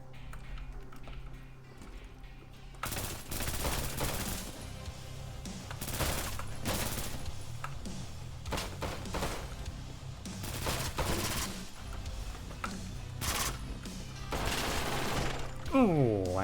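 Rapid bursts of P90 submachine gun fire in the video game Intravenous, dense cracking volleys repeated across the clip with brief gaps, loud and close, ending in a reload-like mechanical clatter.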